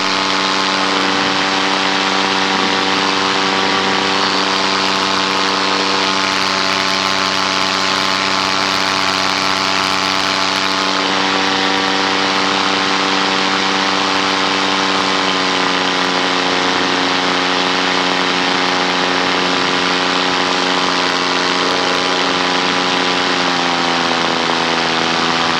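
A SkyMax Starframe paramotor engine drones steadily in flight, a loud continuous buzzing whose pitch dips and shifts slightly partway through, with no talk.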